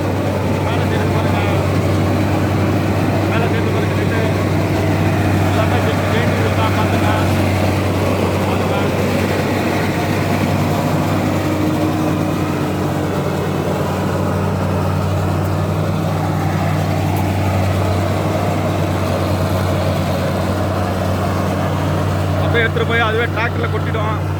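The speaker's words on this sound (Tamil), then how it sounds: "பாருங்கள் டிராக்டரில் எடுத்துகிட்டு போய் கொட்டுவாங்க எப்படி பாருங்க பாருங்கள் பாருங்கள் அதில் தான் நெல் இருக்கு இதான் அறுக்கிற மிஷினு" Paddy harvesting machine and tractor engines hum steadily in a rice field, a constant low mechanical drone that stays even throughout while a person talks over it nearby.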